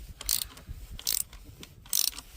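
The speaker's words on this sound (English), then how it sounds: "To remove it, I will be using 10mm socket and a ratchet." A ratchet with a 10mm socket loosens the negative battery terminal on a 2011 Chevrolet Malibu, giving three close, crisp bursts of rapid clicking separated by short pauses.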